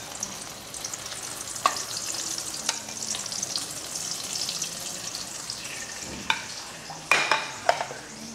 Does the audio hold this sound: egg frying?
yes